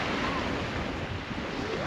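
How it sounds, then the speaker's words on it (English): Steady wind rushing across an open white-sand beach, a continuous broadband roar with surf-like texture and no distinct gusts, loud and close throughout. "obviously you can hear the winds up a bit"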